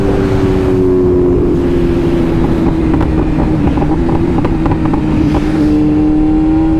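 A motorcycle fitted with a new exhaust, from an owner of Ducati bikes, runs in a loud, steady engine drone that sways slightly in pitch, with wind buffeting the microphone throughout.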